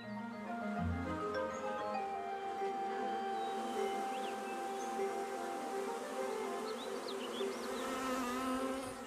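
A steady, dense buzzing of many bees hovering close around flowers, continuous and droning throughout with slight shifts in pitch.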